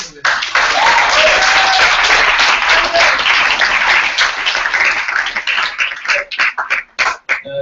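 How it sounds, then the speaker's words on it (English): Loud, close audience applause after a candidate Q&A session, a dense burst of clapping that breaks into scattered individual claps before fading, with a voice briefly heard over it. "another big round of applause"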